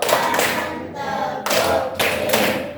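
Pupils in a classroom clap together in a rhythmic chant, bursts of group clapping broken by short pauses, loud and close.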